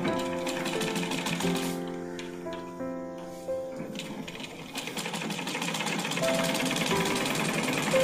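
A sewing machine stitching a blouse, loud rapid mechanical chatter in bursts with brief pauses and speed changes, heard up close without talk.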